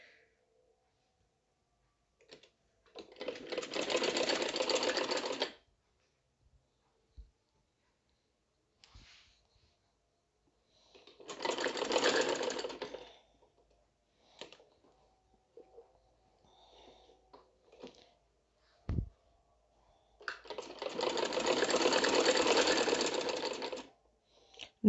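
A sewing machine stitches a frill onto a layered designer kurti in three separate runs of steady, rapid whirring. Faint clicks and handling noises fall between the runs, and no one speaks.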